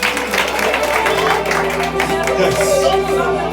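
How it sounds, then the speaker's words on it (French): A church congregation keeps up continuous applause in praise, broad even clapping mixed with organ or keyboard tones and scattered voices, fairly loud and sustained. "On applaudit Jésus."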